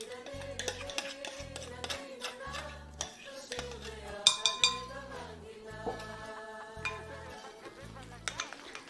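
A metal utensil stirs a thickening, cooling mixture in a pot for a Turkish Sephardic Jewish dish, with light clinks and scraping taps scattered through while a person talks over it.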